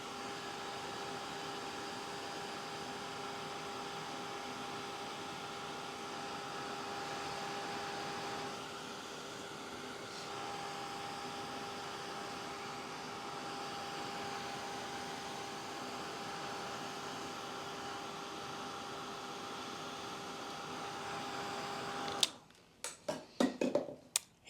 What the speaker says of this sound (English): just kind of keep moving your heat tool over the surface until all the spots have changed over and are shiny